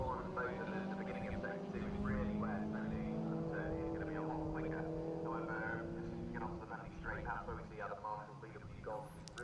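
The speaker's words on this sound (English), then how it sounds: "And through the hairpin they go. There goes two of the Reading 2 MX-5" MX-5 race cars rounding a circuit hairpin produce faint engine drone and tyre noise well in the background, almost entirely beneath continuous commentary.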